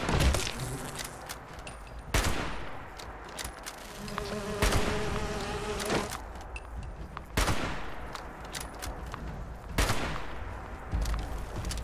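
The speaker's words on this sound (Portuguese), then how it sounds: "Nossa, ele lança abelhas." Enemy-launched bees in Fallout 76 buzz loudly and close, mixed with repeated sharp bursts of gunfire roughly every two to three seconds throughout.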